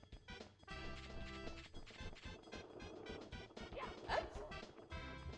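A creature in the Super Mario 64 video game barks in repeated short yaps and a whimper over busy game music, with a crash near the end.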